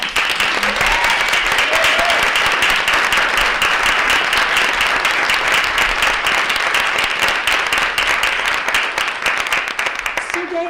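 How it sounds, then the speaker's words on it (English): Sustained, loud audience applause fills a reception hall at an alumni celebration, dense steady clapping lasting throughout before tapering slightly at the end. "So let's have one more round of applause."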